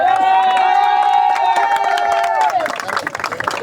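Crowd at a village-level cricket tournament prize ceremony bursting into applause and cheering, a loud sustained roar of clapping with a held shout or whistle fading after a few seconds.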